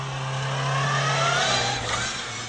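A Volkswagen car engine revs loudly and steadily, holding a sustained, rising roar with no other sounds over it.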